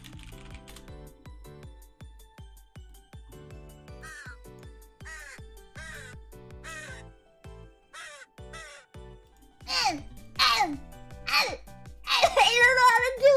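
A voice imitates crow caws with repeated rising, nasal calls that grow louder and more frantic toward the end, over a steady run of clicking taps and background chatter.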